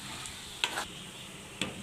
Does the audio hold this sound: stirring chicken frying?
yes